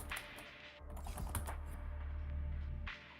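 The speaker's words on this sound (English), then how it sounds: "You can come over here and just type some stuff." Keys clatter on a computer keyboard as chat is typed in League of Legends, a quick, soft run of close taps over a low hum, with no voices.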